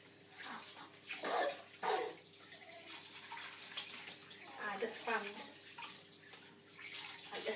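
Running water splashes and gushes in uneven surges while a placenta is rinsed of excess blood and clots, close and fairly loud, with a steady low hum underneath.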